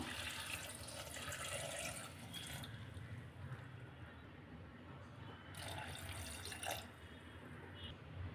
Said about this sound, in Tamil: இப்போ இதில் ஒரு ஒன்றரை கப் அளவு தண்ணி சேர்த்துக்கலாம்